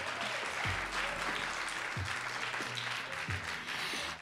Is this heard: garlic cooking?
no